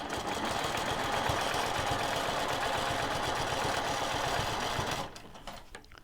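A sewing machine stitches a quilt with a steady, close mechanical whir of rapid needle strokes for about five seconds, then slows and stops, leaving a few faint clicks.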